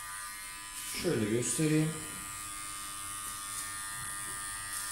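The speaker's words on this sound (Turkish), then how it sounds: "Makineyi sürerken bitim noktasına doğru hafif ucunu kaldırıyorum." A Powertec TR 1700 electric hair clipper buzzes steadily and close during a number 3 home haircut, its drone running throughout while someone speaks briefly over it.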